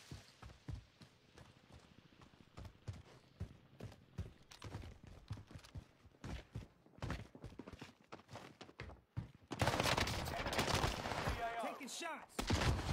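Gunfire in the Apex Legends video game, with bursts of sharp shots and rapid automatic fire sounding through ongoing game audio, getting louder and denser toward the end, with a voice talking at times.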